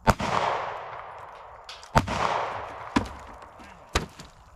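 Sharp gunshots from a Taurus G3C 9mm pistol, four loud separate reports spaced about a second apart, each followed by a ringing decay outdoors.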